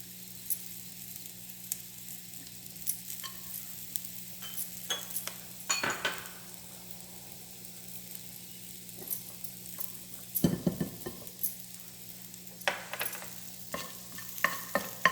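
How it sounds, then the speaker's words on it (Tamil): Cinnamon bark frying in sesame oil for a chicken pepper fry, a soft steady sizzle close by with occasional spoon clinks and stirring scrapes against the pan. "பட்டை பொரிஞ்சு போச்சு"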